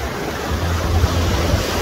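Sea waves roll and wash steadily at a beach in Bulgaria, a continuous broadband surf with a low rumble and some wind buffeting the microphone, close and fairly loud with no voices.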